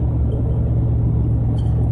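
Steady low road rumble and engine drone from a car driving toward Brownsville, Tennessee, continuous and fairly loud, with no talking.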